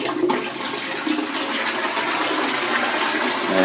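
A hotel bathroom toilet flushed with a lever handle in Dublin gives a strong, continuous rushing and gurgling of water that fills the whole clip, close and loud.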